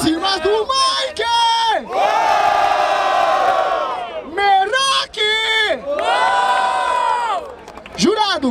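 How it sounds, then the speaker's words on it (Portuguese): A live crowd at a street rap battle in Barueri, São Paulo, erupts in loud, sustained cheering and shouting, with repeated waves of yells and whoops rising and falling over several seconds. "Aí, barulho para as rimas do Mike"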